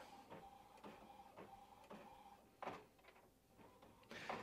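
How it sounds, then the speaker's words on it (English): An inkjet printer with a clogged print head runs a test print, giving faint, steady mechanical passes with rhythmic carriage clicks and a couple of louder shuffling thumps. "I want to do another test"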